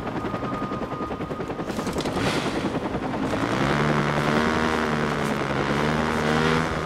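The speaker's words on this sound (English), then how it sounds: "How the hell do you want me to tail a goddamn helicopter?" Helicopter in the Watch Dogs video game, a steady loud rotor chop with engine whine throughout, rising slightly, mixed with other game action noise.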